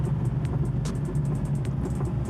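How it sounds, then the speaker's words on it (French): Porsche 911 964 Turbo 3.6 with a stainless exhaust, a steady low engine drone heard from inside while driving, with faint clicks over the rumble. "il y a toujours la sortie inox qui se fait entendre."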